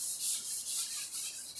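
A sanding block drawn over an epoxy primer guide coat, a close, steady rasping rub in rhythmic back-and-forth strokes, alone.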